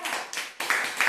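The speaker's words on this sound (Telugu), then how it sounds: "చప్పట్లు కొట్టాలి, చప్పట్లు." Children clapping together at an anganwadi centre, a few quick bursts of scattered handclaps close by, in short uneven rounds with no talking over them.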